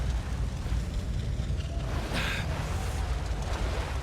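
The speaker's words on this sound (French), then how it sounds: "Il y a le feu sur l'eau." Fire burning on water in the old video game BioShock gives a steady, dense roar and crackle with a brief brighter burst midway, continuous and fairly loud throughout.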